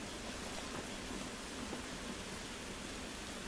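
Rain in The Last of Us Remastered, a steady broadband hiss of falling water that holds at an even, fairly quiet level with no other clear sounds.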